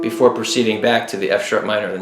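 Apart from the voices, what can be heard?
No everyday noises stand out.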